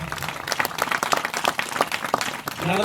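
A church congregation claps loudly at a prayer meeting: a burst of fast, dense, rhythmic clapping, with a voice starting up at the very end.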